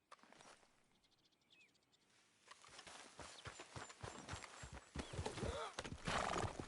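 Horse in the Red Dead Redemption 2 video game, with clip-clop hoofbeats and a short neigh over a busy game soundscape of scattered footsteps, rustles and faint birds, growing louder toward the end.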